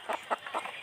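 Tiger hens kept for meat and eggs cluck nearby in a quick run of four short, throaty calls.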